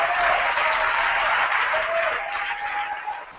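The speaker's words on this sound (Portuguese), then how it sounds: "Aplauda o Senhor" Church congregation applauding during an evening service, a full burst of clapping that holds steady and then thins out toward the end, with a few faint voices mixed in.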